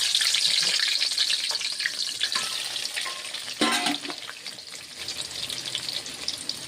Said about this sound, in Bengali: এখন এটাকে তেলে ভেজে নেব।